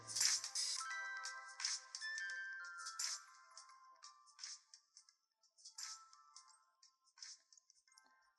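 A song plays faintly through SoundPEATS C30 earbuds, a thin, tinny melody of bright tones and beats leaking from the small speakers, quiet and close with no voices.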